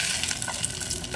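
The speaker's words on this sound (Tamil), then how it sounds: "ஸோ ஆனியனும் லைட்டாக பொரிச்சிக்கலாம்." Onion fries in oil with a steady, close, crackling sizzle that carries on unbroken throughout.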